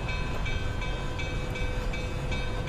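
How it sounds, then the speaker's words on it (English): A steam locomotive bell in a train simulator game rings in a steady, regular rhythm over a constant rumble of engine and rail noise. "I'm going to sound the bell again."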